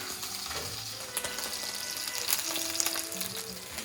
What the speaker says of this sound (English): the oil is nice and hot, so we're going to get it in the pan. Get a nice sizzle there.